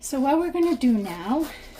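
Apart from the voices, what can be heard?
None of the usual background noises is heard.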